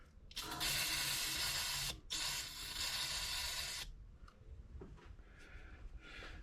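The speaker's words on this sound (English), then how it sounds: "Just going to spray it off." An aerosol can of cleaner gives two long, loud hissing bursts at close range while working on a 2016 Jeep Wrangler, followed by faint shorter spritzes and quiet background noise.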